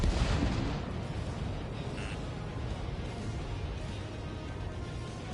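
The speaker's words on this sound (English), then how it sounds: "Missile. Missile. Missile. Target destroyed." Missile launches and explosions in Ace Combat 7, a dense continuous roar of blasts and rumbling detonations, loud and close throughout with no clear gaps.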